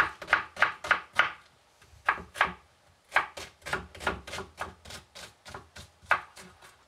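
Knife coarsely chopping an onion on a board, a series of crisp, close, evenly spaced chops in short bursts with brief pauses between runs.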